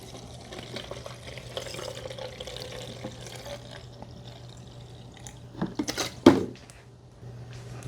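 Oxy cleaning solution pours into the tank of a Shark PX202 StainStriker portable carpet spot cleaner, a faint, steady liquid trickle ending in a brief louder splash and clatter near the end.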